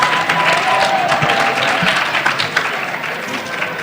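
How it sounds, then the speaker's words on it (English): A school audience applauds at a senior academic assembly, steady dense clapping filling the hall for a few seconds with a faint voice and whistle-like tones mixed in. "You guys give them a round of applause."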